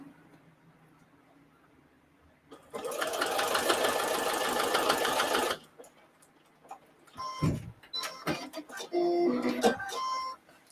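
A sewing machine runs in one steady, loud stitching burst lasting about three seconds while a placemat is sewn, followed by a person speaking and small handling clatters.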